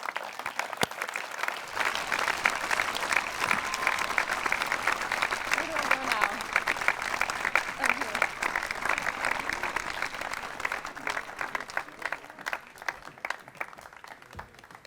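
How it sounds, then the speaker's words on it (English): An audience at the International Tennis Hall of Fame induction ceremony applauds Mary Pierce with a long, steady round of clapping that slowly thins toward the end, with voices mixed in. "Ladies and gentlemen, how about one more round of applause for Mary Pierce?"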